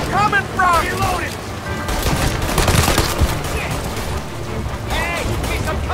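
Bursts of gunfire in the video game Mafia Definitive Edition, repeated shots and rattling volleys over a constant battle din, with game characters shouting between the shots.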